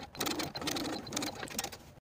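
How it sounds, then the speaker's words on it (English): A sewing machine bastes the pleats and lap edge of a dress made from Simplicity pattern 8014, giving a close, steady whirring run of rapid stitching with small shifts in loudness and no talk. "Now we'll go to the sewing machine and baste both of the pleats and that edge of the lap in place."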